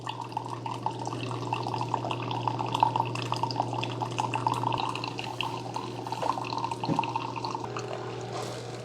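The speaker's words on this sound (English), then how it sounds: "Okay, it starts brewing right away." A Keurig K-Iced coffee maker brews through a reusable K-Cup with no paper filter, giving a steady trickling, dripping flow of liquid over a low motor hum, continuous and close for the whole stretch.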